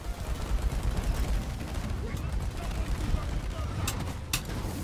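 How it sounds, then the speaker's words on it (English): Rocket fire in the video game Deep Rock Galactic, a dense barrage of rapid blasts and crackling gunfire running steadily throughout, loud and close, with a voice speaking over it. "Can you shoot that rocket off, please?"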